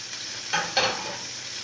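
Eggs and sausages fry in a pan at breakfast, a constant sizzle with two quick scraping stirs in the middle.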